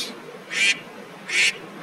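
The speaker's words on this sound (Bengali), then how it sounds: "এটা হলো ডাক, হাঁস।" A duck quacks twice, each call short, bright and loud, separated by about half a second of quiet.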